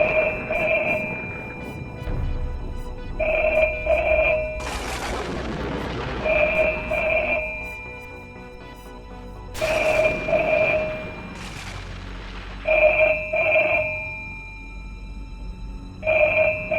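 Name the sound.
telephone ringing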